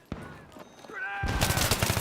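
Burst of gunfire in the shooter game Metro Conquest, a sharp crack followed by sustained rapid automatic fire, loud and close with no talk.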